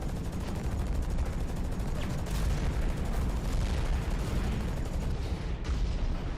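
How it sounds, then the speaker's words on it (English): Rocket fire in the mech shooter Hawken, a dense, continuous barrage of gunfire-like blasts and booms that fills the whole stretch with steady, loud rumbling noise and no clear gaps. "There's a guy with a crazy amount of rockets shooting."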